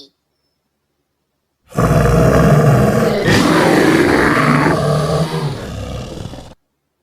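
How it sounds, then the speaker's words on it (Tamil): A bear lets out one long, loud, rasping roar close by, a sustained guttural bellow that swells midway and fades out after about five seconds. "கரடி"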